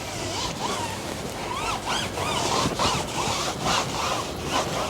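Applicator pad rubbed back and forth onto a car tire while dressing it after cleaning the wheels, a close, steady scrubbing and swishing with repeated strokes, no talk.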